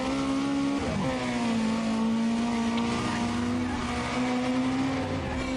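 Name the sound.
car engines racing in video game Need for Speed: Undercover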